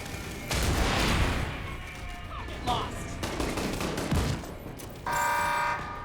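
Bursts of gunfire from The Division 2 shooter game, loud sustained volleys in the first seconds and again near the end, with an electronic tone and voices talking over the fighting.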